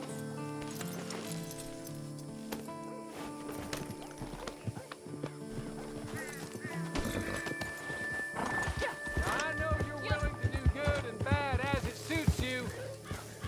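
Horse hooves clip-clop and a horse neighs in the video game Red Dead Redemption 2 on PS5, set against game music and voices, with the trotting growing busier and louder in the second half.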